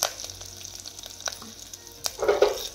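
Curry leaves and turmeric crackle in hot oil for a buttermilk kadhi tempering, with soft scattered pops and a louder burst of sizzling near the end, close and without talk.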